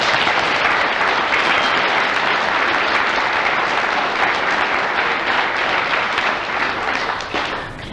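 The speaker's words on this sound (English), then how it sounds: "Let's give them one more round of applause." A school audience at a grade 5 assembly claps in a loud, dense round of applause that holds steady and thins out only at the very end.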